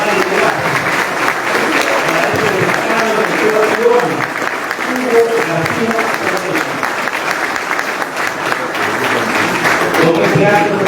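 A conference audience gives a long, sustained round of applause, dense and fairly loud, with scattered voices murmuring under the clapping.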